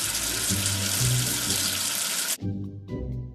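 Running water rinses soap off in a children's letter game, a steady loud faucet-like gush that cuts off abruptly, leaving quieter trickles and soft background tones.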